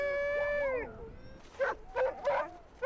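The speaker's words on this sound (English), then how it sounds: "These are Mika Mike's dogs." Inuit sled dogs in Iqaluit, with one dog letting out a long, wavering howl before several sharp, close barks and yips follow in quick bursts.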